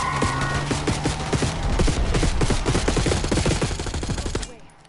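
Rapid automatic gunfire in Black Ops 6 rattles in dense bursts for over four seconds during a street firefight, loud and close, then cuts off abruptly to near silence.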